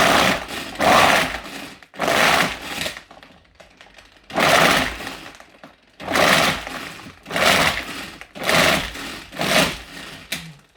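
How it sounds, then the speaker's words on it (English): A blender roars in loud bursts, grinding and rattling as ice is crushed for a raspberry mojito, with brief pauses between pulses. "did you hear all that ice breaking up?"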